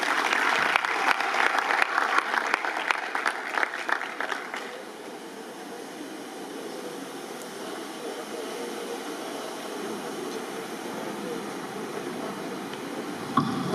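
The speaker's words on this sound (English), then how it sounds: "Please, another round of applause for Mr. Thompson, please." An audience at a plenary session claps for a speaker, a dense burst of applause for about four seconds that fades into a low steady hum of room noise and ventilation.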